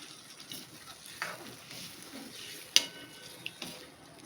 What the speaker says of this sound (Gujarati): મિક્સ કરી લેશું.